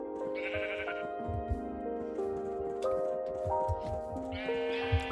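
Sheep in the Minecraft video game bleat repeatedly at close range, several wavering calls overlapping against steady background game music.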